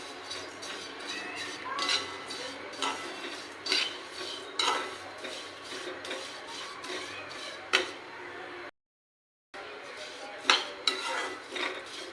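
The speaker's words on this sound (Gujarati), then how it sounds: "ગરમ થાય એટલે આપણે આ સેવૈયા શેકી લઈશું" Vermicelli being roasted in ghee in a hot pan, with repeated close clinks and scrapes of a spoon against the metal and a brief gap of silence near the end.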